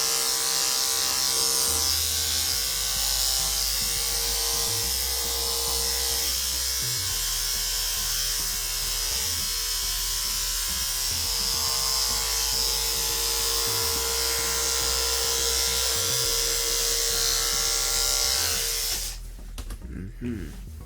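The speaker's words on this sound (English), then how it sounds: "We can use the clipper a bit more here." Electric hair clipper trimming a dog's coat, a steady close buzzing drone with small changes in tone as it moves, continuing until a sudden change near the end.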